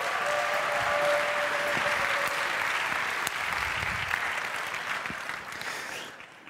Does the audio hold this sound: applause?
yes